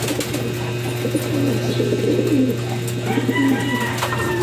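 Several pigeons coo in low, throaty bursts, overlapping and fairly close, over a steady background hum with occasional faint chirps.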